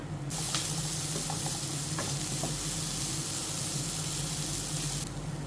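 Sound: grated coconut being roasted for theeyal

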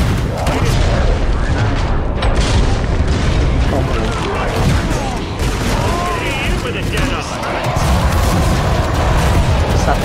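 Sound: explosion in the video game Killing Floor 2

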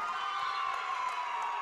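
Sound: basketball crowd cheering after a free throw

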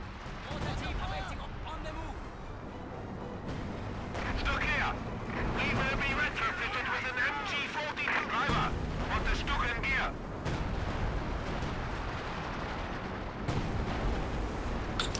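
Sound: artillery fire in video game Company of Heroes 2

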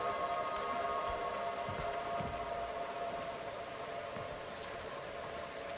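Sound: rain in a video game

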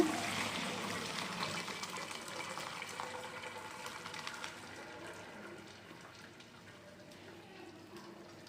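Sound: pouring cooked rice with water into a vessel to drain

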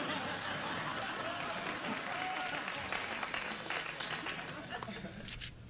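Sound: studio audience applauding

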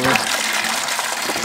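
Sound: water draining from aquaponic bell siphon

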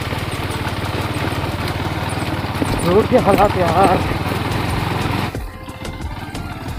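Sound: motorcycle engine idling on a muddy road

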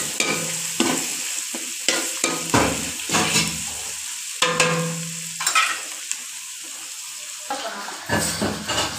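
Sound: stirring whole spices frying in a pan

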